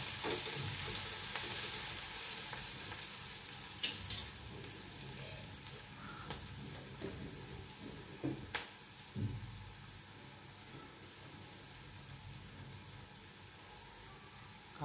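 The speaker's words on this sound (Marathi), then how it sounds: "कांदा चांगला गुलाबी रंगावर परतून घ्यायचा आहे." Finely chopped onion sautéing in a pan for upma, a steady low sizzle with occasional stirring scrapes and soft clinks, close and fairly quiet throughout, no voices.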